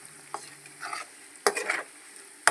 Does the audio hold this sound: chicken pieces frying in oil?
yes